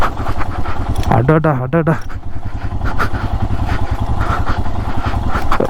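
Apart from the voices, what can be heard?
Royal Enfield Himalayan 411cc motorcycle engine riding off-road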